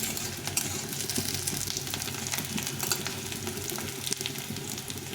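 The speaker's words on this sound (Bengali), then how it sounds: "দিয়ে এটা ভেজে দিচ্ছি" Eggs sizzle and crackle steadily in a hot frying pan, a dense, even fry heard close up and alone for the whole stretch.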